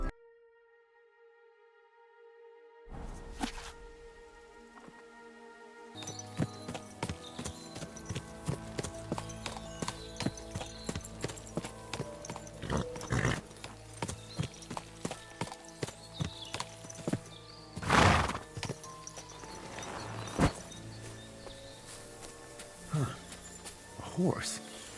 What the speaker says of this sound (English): A beautiful horse. Black as charcoal.